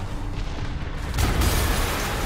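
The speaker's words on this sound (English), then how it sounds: "An explosion just... I saw it." An explosion in the Spider-Man video game: a dull, rumbling boom that swells partway through and holds as a loud sustained roar, with no talking.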